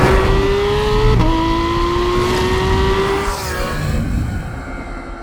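A Porsche GT3's flat-six engine revving hard toward 9,000 rpm, pitch climbing steadily through gear changes to a shriek, loud and close over road and wind roar.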